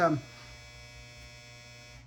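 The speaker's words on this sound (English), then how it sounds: "that's the dryer" A clothes dryer runs in the background as a steady, even electrical hum, with a brief louder sound at the very start before it settles into a constant drone.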